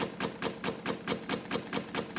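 A homemade three-phase electric motor with a mismachined new stator running at about 24 volts, giving a fast, regular knocking pulse about four times per second, moderately quiet and steady with no talking.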